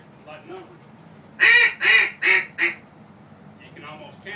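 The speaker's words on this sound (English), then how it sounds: "You hear the duck call say Three Blind Mice" A duck call is blown in four loud, close quacks, with the first three evenly spaced and the fourth shorter, following the cadence of Three Blind Mice. Someone speaks softly before and after.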